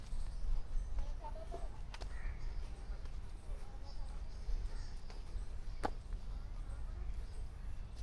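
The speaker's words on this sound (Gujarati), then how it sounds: "કોયલ છે." An Asian koel calls faintly from a distance in a quiet city garden in Surat, with a few short calls rising over steady outdoor background noise.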